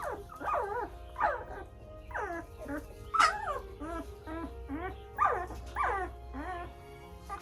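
A litter of nine young puppies whimpering and yipping up close, with repeated high, wavering cries in quick bursts over a faint background hum.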